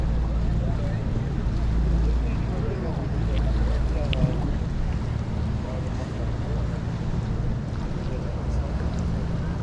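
Wind buffets a microphone on a fishing pier at Arcachon, France, a steady low rumbling roar throughout, with faint background sounds and no clear speech.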